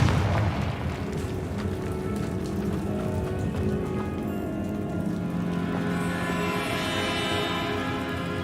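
Confringo blasting spell from Hogwarts Legacy, a loud, sustained rumbling explosion that decays slowly into a crackling, hissing tail over several seconds.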